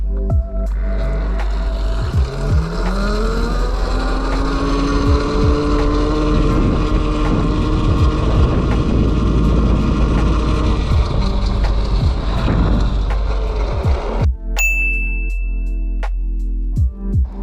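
A Yozma IN 10 electric scooter rides in mode 1 with a rising motor whine that climbs in pitch as it speeds up, steady and close, mixed with rolling road noise and wind buffeting before cutting off abruptly.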